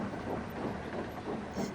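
A steam engine train puffing away, with a steady rhythm of chuffs and hissing steam, fairly close and continuous, with no talking.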